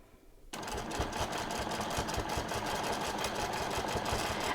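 A sewing machine starts up after a brief silence and stitches a charity quilt, a fast, even mechanical chatter with a rapid rhythmic knock that runs steadily to the end, close and clear.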